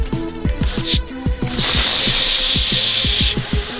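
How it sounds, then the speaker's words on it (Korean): A steady hissing burst of spray in a foot-cleaning video game runs for about two seconds, over a bouncy, repeating game music loop with quick tonal blips. "이거 마치 나 머리에 스프레이 바르는 소리 나는데?"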